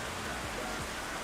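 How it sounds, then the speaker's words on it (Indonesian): Heavy rain in Genshin Impact or Honkai: Star Rail gameplay, a steady broadband hiss of downpour, fairly soft and continuous throughout the short stretch. "Melebat aja tuh hujan tuh, dengar."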